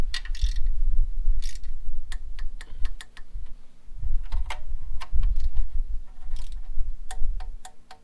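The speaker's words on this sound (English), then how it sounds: "These bolts are super light, 80 inch-pounds, so we're going to torque these up." A ratchet torques the cam position sensor bolts on a 2002–2005 Toyota 4Runner, with quick bursts of sharp clicks and ticks, alone and close, against a low steady hum.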